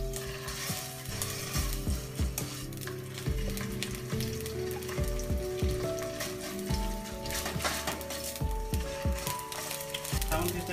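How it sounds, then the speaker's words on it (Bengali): Salmon frying in a tablespoon of olive oil in a pan, a steady close sizzle running throughout, punctuated by repeated scraping and stirring knocks from a utensil, with no talk. "সামুন ফিশটাকে আমরা ভাজি করব"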